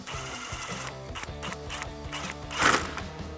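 Tightening factory mounting hardware on a 2009-2018 RAM 1500 headlight with a 10mm socket, a quick run of close ratcheting clicks in rapid rhythm, ending in a sharper metallic burst, no voices.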